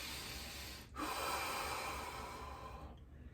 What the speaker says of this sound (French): on inspire profondément